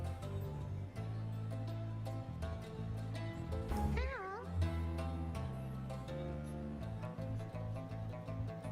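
A Drive Imp creature gives wavering, cat-like calls and screeches, several rising and falling wails in a row over a busy musical background, with talking around them.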